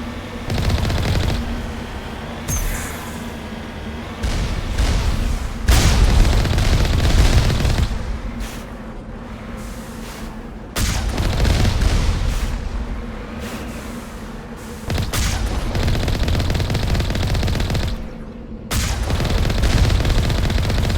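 Turrets in the video game Mass Effect firing in sustained, loud bursts of rapid gunfire that cut off and restart several times over roughly twenty seconds, with heavy booming impacts mixed in.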